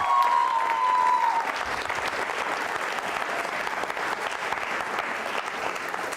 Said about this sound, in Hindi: आभार प्रदर्शन के लिए तालियां जोरों से बजाइए आप